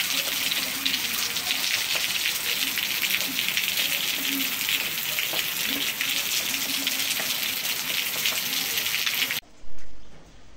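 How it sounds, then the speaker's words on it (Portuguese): Light rain falls in Brejo do Cruz in northeastern Brazil as a dense, steady outdoor hiss with soft water rushing, then cuts off abruptly near the end. "tá dando uma chuvinha boa."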